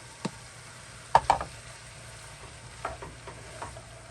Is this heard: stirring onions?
yes